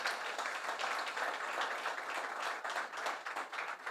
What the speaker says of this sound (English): stand up and give her a big round of applause